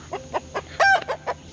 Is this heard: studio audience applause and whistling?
no